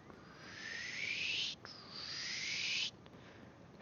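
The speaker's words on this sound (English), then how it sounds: "I swear these birds sound like they're gonna blow up." Two long rising electronic bird calls from creatures in the sci-fi video game Mass Effect Andromeda, each swelling for over a second with a brief gap between, loud and close with no talk.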